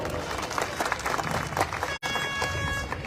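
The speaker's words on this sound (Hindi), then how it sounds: "इसके लिए एक बार जोरदार तालियां हो जाए।" Loud crowd clapping at a Rajput community gathering, a dense burst of many hands that cuts out abruptly for an instant near the end and then resumes.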